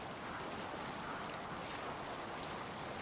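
Rolling ocean waves on open water in Assassin's Creed Valhalla, a steady, dense wash of surf and wind noise that holds evenly throughout with no breaks or voices.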